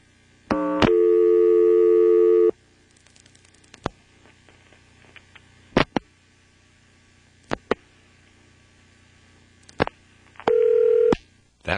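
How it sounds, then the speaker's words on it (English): Tones from a Carolina Telephone NX1-E exchange trunk in Vanceboro, NC, 1977, after dialing 2 then 3: a loud steady dual tone, scattered clicks and brief pulses, then a second shorter tone, over a low hum. "I also tried dialing 2 followed by a 3 on this trunk"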